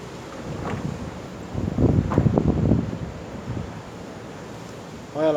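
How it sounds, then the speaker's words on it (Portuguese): Strong gusting wind roars ahead of rain in Ouro Fino on a Tuesday afternoon, a broad rumbling rush that swells in the middle and eases, close to the microphone. "Tudo esse barulho, gente, é vento,"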